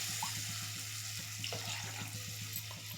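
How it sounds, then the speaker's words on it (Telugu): Water is poured over oats in a cooking pot, three cups to one, for masala oats: a quiet, steady splashing trickle under a faint low hum. "1 కప్కి 3 కప్స్ పోస్తున్నాను వాటర్."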